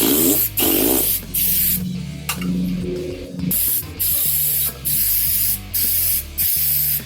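Spray can painting a vehicle part in quick repeated bursts, about ten sharp close hisses of under a second each, separated by short pauses, with faint low background noise.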